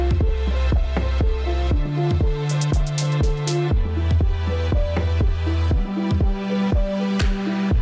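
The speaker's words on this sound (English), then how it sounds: "you have the strings here" An electronic track with punchy kick drums and deep bass, with sustained string chords layered over a steady beat.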